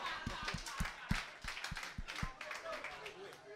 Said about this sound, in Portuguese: Eu queria aproveitar para pedir palmas, palmas ao projeto, por favor